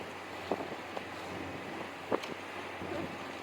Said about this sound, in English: But it's a bit windy.